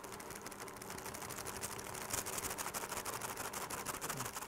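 A stand mixer works flour into rousquilles dough with a continuous fast mechanical whir and rattle. It runs at an even, moderately loud level throughout, with nobody speaking.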